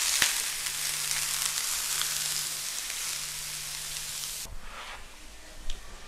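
Thinly sliced onion sizzles on a buttered grill for a homemade Big Mac, a steady crackling hiss with scattered pops that suddenly thins and quiets near the end, with no speech.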